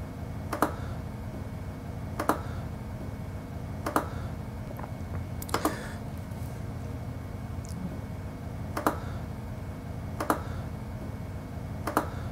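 A computer mouse clicks sharply about every one and a half seconds as a margin is traced across the subgingival area in CEREC dental design software, the crisp clicks standing out over a steady low background hum.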